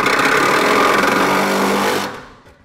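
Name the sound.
Sawzall reciprocating saw cutting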